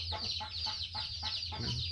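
Chickens cluck in a farm coop in a series of quick rhythmic bursts, steady and fairly close, over a constant low background hum with no talking.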